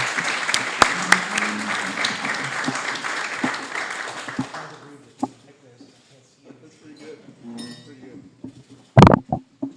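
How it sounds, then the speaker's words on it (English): Audience applause rises for an education secretary and a governor, with dense steady clapping in the first half that fades out, followed by scattered claps and a few clinking sounds. "The applause was for Pedro, right?"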